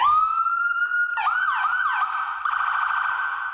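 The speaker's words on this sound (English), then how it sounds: "we're about to turn the sirens on. It's gonna be loud" A police siren speaker blasts a loud, close wail that rises and holds, then breaks into quick falling sweeps before settling back into a steady tone, with no voices over it.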